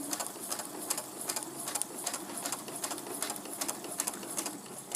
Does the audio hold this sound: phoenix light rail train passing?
no